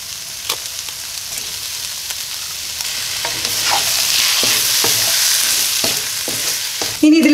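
Vegetables seasoned with salt sizzle and fry over a high flame, a loud continuous hiss close up with scattered stirring scrapes and a sharp clatter near the end, no speech.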